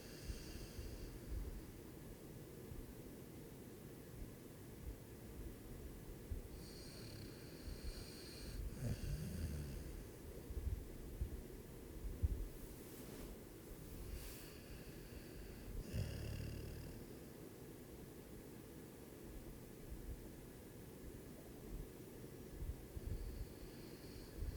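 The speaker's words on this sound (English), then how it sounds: "I really hope you guys can hear my dog snoring." A chocolate Labrador dog snores close by, steady soft breathing with low rumbling snorts and wheezy inhales repeating in a slow rhythm, quiet and alone.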